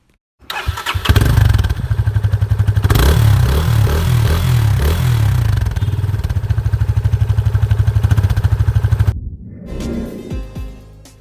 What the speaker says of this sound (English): the exhaust note of the FZ25 is much more appealing than before